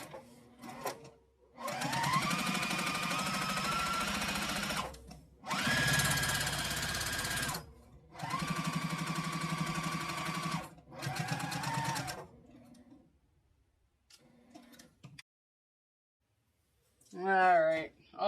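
A sewing machine runs stitch-in-the-ditch along a quilted zipper case in several steady whirring bursts of a few seconds each, with brief pauses between runs and a short soft noise near the end.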